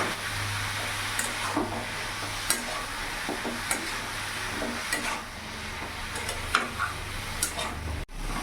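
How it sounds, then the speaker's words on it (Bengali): Diced ash gourd with salt and turmeric is stirred in a pan, making a soft continuous sizzle with scattered scraping and clicking of a spoon, ending in one sharp knock. No voices are heard. "ভালো করে নাড়াচাড়া করে মিশিয়ে নেব।"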